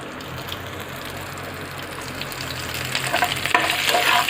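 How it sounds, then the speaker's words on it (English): Curry leaves hit hot oil in a pan and crackle into a steady, close sizzle that swells louder toward the end, with sharp spits and pops breaking through. "Now I add my curry leaves."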